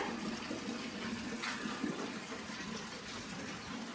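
Water gushes steadily into a container at a rural Punjab home, a continuous, even rushing flow that holds at one level for the whole stretch with no voices over it.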